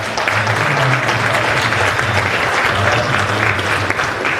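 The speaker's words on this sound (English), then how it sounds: "So y'all give them a round of applause" Loud, sustained applause from a crowd honoring the MacArthur High School JROTC program after its Oklahoma State Championship win, dense steady clapping filling the whole stretch with a low hum beneath.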